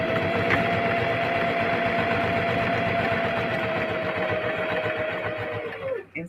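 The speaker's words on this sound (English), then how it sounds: "I'm going to stop and pivot and sew down" Continuous close, loud whir of a sewing machine stitching a necktie with a 3/8-inch seam, a steady hum that slows and stops right at the end.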